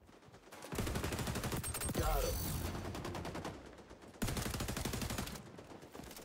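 Rapid bursts of pistol fire, like a Glock, ring out in the shooter game XDefiant, loud and close, with dense repeated shots packed across most of the stretch and a brief break partway through.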